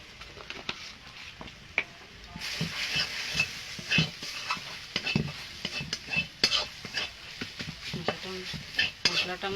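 Ground spices with coriander, cumin and chilli powder fry in a pan for a fish bhuna, with a low sizzle under frequent sharp scrapes and clinks of a spoon stirring against the metal.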